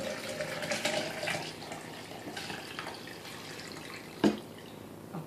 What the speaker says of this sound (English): I'm going to transfer everything into this pitcher. So I'm just going to pour everything in here.